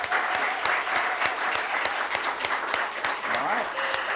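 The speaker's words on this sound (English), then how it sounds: "give another huge round of applause to Kyle" Steady applause from an audience for a guest speaker at a real estate event, rhythmic clapping continuing loudly for several seconds with a voice briefly audible beneath it.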